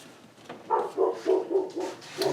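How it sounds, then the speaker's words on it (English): Dogs barking in a quick run of about six sharp barks and yips, fairly loud and nearby, with no talk. "It makes the dogs bark when you put it on."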